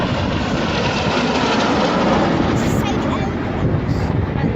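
Three jets cruising past in formation at a 2015 air day show, a steady, loud, broad roar of engines filling the whole stretch without letting up.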